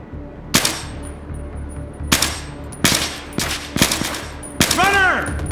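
Gunfire in the video game Battlefield 3: about six loud, sharp shots spaced irregularly, each with a ringing tail, ending in a whooshing, warbling effect.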